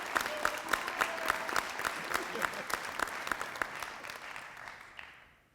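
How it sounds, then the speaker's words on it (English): Audience applause at a high school hall of fame ceremony: dense, steady clapping from a crowd with a few sharper individual claps standing out, holding for several seconds before fading away at the end. "we can give him a round of applause for his unselfishness over those years"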